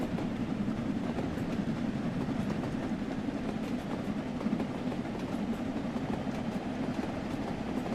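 Steam locomotive with three cylinders and drain cocks accelerating on the Peak Forest line between Chinley, Buxton and Ambergate in Train Sim World 3, a steady loud rumble of wheels and rail noise continuing throughout with no talk.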